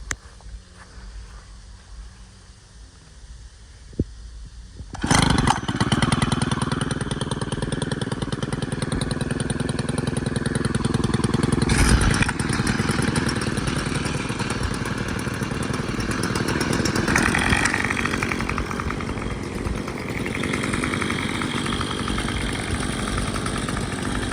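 A Stihl FS91R string trimmer is started after sitting off for a few minutes: a quiet lead-in, then the engine catches around five seconds and runs steadily loud and close, with one brief rev near twelve seconds.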